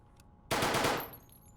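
A pistol in Fallout: New Vegas fires a fast burst of rapid shots that merge into one loud crackling roar, lasting under a second and then ringing off quickly, with no speech.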